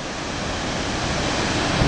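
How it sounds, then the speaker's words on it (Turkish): The thundering roar of Victoria Falls fills the air as a constant, dense wash of rushing water, with wind buffeting the microphone and no pauses. "Geniş bir alanda bir şelale ki burası."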